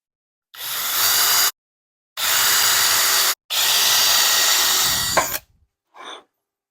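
A power drill bores a hole in wood for a simple step stool in three loud, sustained whirring bursts separated by short pauses, the last winding down, followed by a brief faint tail.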